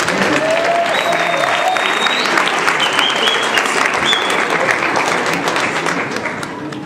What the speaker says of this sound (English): Now let's give a round of applause.